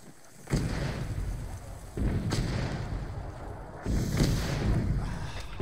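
Mortar fire in the military video game Arma 3 booms in three heavy blasts spaced about every one to two seconds, each followed by a long rumbling roar, loud and with no talk.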